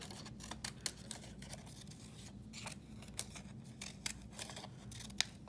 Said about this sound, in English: I was thinking about cutting out a cloud shape